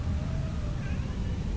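A house cat meows to be let outside, a drawn-out rising call over a steady low hum of indoor background noise, close and moderately loud.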